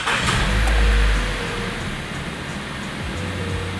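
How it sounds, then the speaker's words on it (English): Mazda CX-5, a 2013 model, starts up with a low rumbling crank and engine catch near the beginning, then settles into a steady idle hum for the rest, with no talk. "I just want to show you turning the vehicle on."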